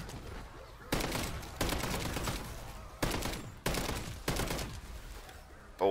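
Bursts of LMG fire in Call of Duty MW3 multiplayer, several loud volleys separated by short gaps over quieter game ambience.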